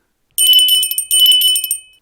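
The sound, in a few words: ringing bell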